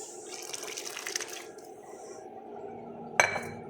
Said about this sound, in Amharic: ምስሩ ከነ ውሃው ነው የምጨምረው፣ ማለትም የሩዙን ከለር እንዲቀይረው ማለት ነው።